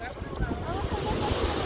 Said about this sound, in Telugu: బోట్ వస్తుంది చూస్తారా, అది ఇలా తీసుకెళ్ళి అక్కడ వదిలేదు అనమాట.